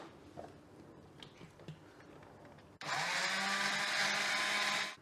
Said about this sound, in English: Let's get this on the blender.